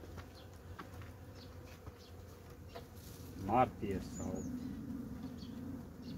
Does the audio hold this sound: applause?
no